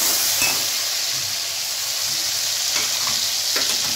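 Chopped onions frying in hot oil with cumin seeds for an aloo gosht curry give off a steady, loud, close sizzle, broken by a few faint stirring clicks, with no talking.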